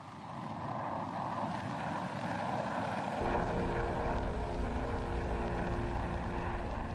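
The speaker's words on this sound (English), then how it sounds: "The planes also began to range further north than before." Military aircraft fly during a Vietnam War bombing campaign, a steady loud engine roar that swells and deepens midway, holding continuously with no voices.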